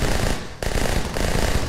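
Rapid automatic gunfire bursts from the military game Arma 3, loud and continuous with a brief gap partway through; no talking.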